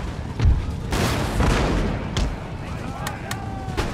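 Cannon fire in Empire: Total War battle, a series of deep booms and sharp shot cracks at varying distances layered over a continuous battlefield rumble, with several quick bright reports toward the end.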